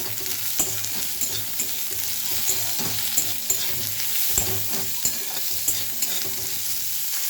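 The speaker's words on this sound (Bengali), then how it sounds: "দেখুন আলু উচ্ছে আমার ভাজা হয়ে গেছে।" Potato and bitter gourd sizzle steadily in a hot pan while a utensil stirs and scrapes them at irregular intervals, close up with no voices.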